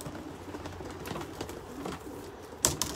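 Racing pigeon cooing softly while being basketed for an 80-mile sprint race, faint low murmurs over quiet background rustle, followed by a couple of sharp clicks near the end.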